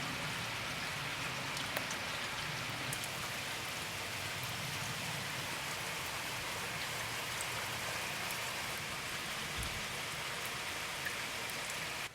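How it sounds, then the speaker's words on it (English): Steady, even rain falls outdoors, a dense continuous patter of drops on surfaces at a faint level, with no talk over it. "It's raining, which means I'm not going to be lighting my forge today"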